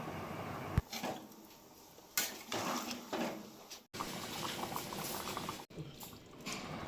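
Desi chicken curry with chui jhal, garlic cloves and fried potatoes boiling in a pot after hot water is added, a close bubbling and popping simmer interrupted by a few brief knocks and sudden cuts.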